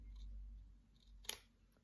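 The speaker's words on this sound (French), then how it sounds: "Vous prenez une paire de ciseaux." A pair of scissors cuts a sheet of paper along its fold while making a scrapbooking card, giving a single short, crisp snip close up against quiet background hum.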